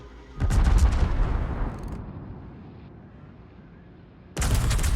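Naval guns on a German hybrid cruiser fire AP shells in World of Warships, a loud booming salvo that rolls off into a fading rumble before a second heavy volley hits near the end.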